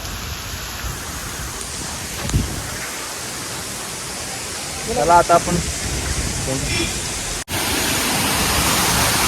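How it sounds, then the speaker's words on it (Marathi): Monsoon waterfall crashing down at Malshej Ghat, a steady broad roar heard in the open. A voice speaks briefly over it, a couple of louder splashy bursts rise midway, and the rush resumes strongly after a momentary cut near the end. "तर बघा वरून कसा धबधबा पडतो जोरात"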